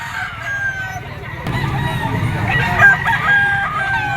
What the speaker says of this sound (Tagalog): Ito pa yung ibang dala na manok ni Kuya Jerry.